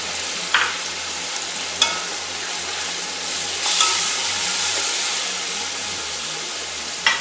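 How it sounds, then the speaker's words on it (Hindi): Tomato and green chili paste frying in a pot for potato chicken pulao, a steady close sizzle with a few sharp stirring clinks and scrapes at intervals, no voices. "एक मिनट के लिए इसे भी भूनते हैं।"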